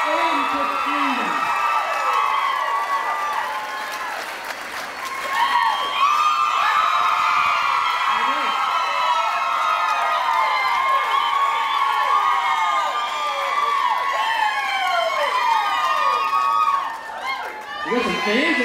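A crowd at a Dancing with the Stars style charity dance event cheers, whoops and screams for a dancing couple, loud and sustained for most of the stretch before easing off near the end.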